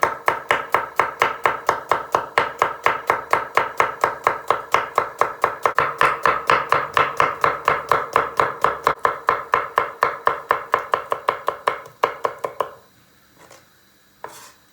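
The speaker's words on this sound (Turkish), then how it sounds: "Soğanlarımızı çok ince doğrayacağız." Rapid, evenly spaced knife chops on a cutting board as onions are finely diced, dozens of crisp strikes in a steady rhythm, close by, then stopping with a few light kitchen clatters.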